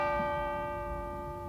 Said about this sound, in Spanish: ¿Campana nueva?